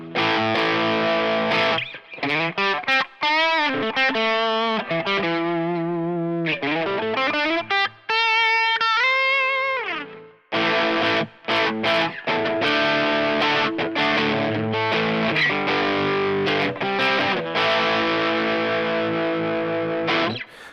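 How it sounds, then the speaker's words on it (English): A distorted electric guitar plays bends, slides and sustained chords up close, with brief pauses between phrases. "now we got a little bit of distortion on here"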